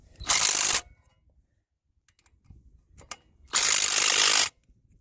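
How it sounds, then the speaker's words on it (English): Ratchet tightening strut hardware during a 3-inch lift install on a Subaru Outback: two loud bursts of rapid clicking, near and alone, with faint handling noises between them. "we're going to tighten it up with the rest of the hardware"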